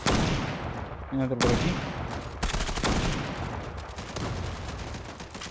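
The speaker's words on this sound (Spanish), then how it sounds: "Disparo en la cabeza." Loud bursts of gunfire in the online shooter Zula, with sharp shots and rapid volleys cutting in and out across the stretch, while a player talks over the firefight.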